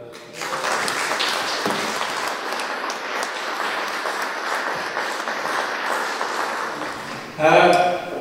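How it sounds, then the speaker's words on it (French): Audience at a community news event applauding the team, a steady, moderately loud wash of clapping for several seconds, ending as a voice starts speaking near the close. "Alors, ça, vous pouvez les applaudir, c'est l'équipe."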